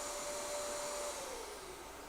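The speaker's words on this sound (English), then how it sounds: "Okay, I think we are done with the hair dryer." A hair dryer runs faintly in the background of an indoor room, a steady, even blowing hum with no break and no talking over it.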